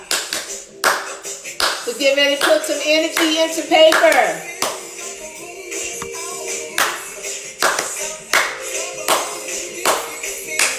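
A group claps hands during a meditative art session, with intermittent bursts of close, scattered clapping under a speaking voice and other voices, including a sung or drawn-out vocal sound partway through.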